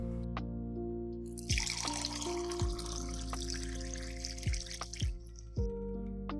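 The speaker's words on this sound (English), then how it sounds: "I started off by pouring in everything from the dirty jars first" Muddy ditch water with sticks and leaves is poured from jars into another jar, giving a soft continuous trickle broken by several distinct drips and plops, close and quiet, with no talking.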